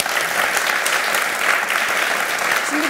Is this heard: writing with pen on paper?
no